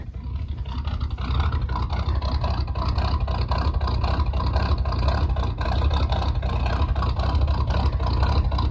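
A high-mileage 7.3 Powerstroke diesel engine idles steadily nearby, a low, continuous rumble with a slight rise in level after the first second and no talk over it.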